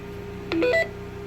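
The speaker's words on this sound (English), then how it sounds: "see if you can throw a test signal at it and a tone" A short burst of a few electronic tones stepping upward in pitch from a ham radio test signal near a repeater, heard over a steady low hum and faint background hiss.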